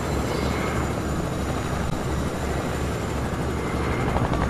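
A helicopter flies in the Fortnite battle royale video game, its rotor and engine drone holding steady and fairly loud for several seconds with no speech over it.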